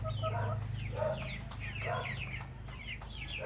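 Several upgraded native chickens cluck repeatedly at close range, short rising calls over a steady low hum, with no talking.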